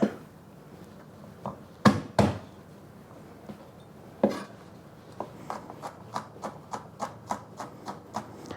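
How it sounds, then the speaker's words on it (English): A knife minces garlic on a cutting board, a few heavy knocks at first, then a steady run of quick, crisp taps close by. "I also like mincing them now with a knife versus using a garlic press"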